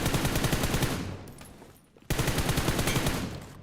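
A UMP45 submachine gun firing in the mobile shooter BGMI gives a rapid, loud automatic burst that fades out. After a brief gap a second sustained burst starts.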